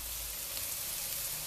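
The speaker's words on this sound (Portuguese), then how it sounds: "Agora o alho vai fritar junto com a cebola" Garlic and onion fry in a pan with a steady, close crackling sizzle that stays even throughout the brief moment.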